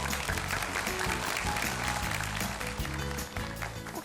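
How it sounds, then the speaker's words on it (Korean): An audience at a Korean televised lecture show gives sustained applause for the speaker Choi Myung-sim. Thick, continuous clapping runs throughout, layered over a low, rhythmic musical backing. "한번 큰 박수 보내주시죠"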